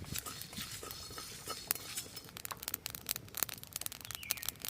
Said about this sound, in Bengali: সব কিছু একসঙ্গে খুব ভালো করে ভেজে নেব।